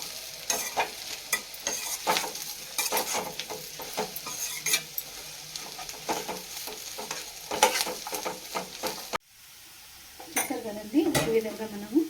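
Spoon scraping and stirring in a pan while food fries, a busy run of close clinks and scrapes over a soft sizzle; near the end a brief voice speaks after a short pause.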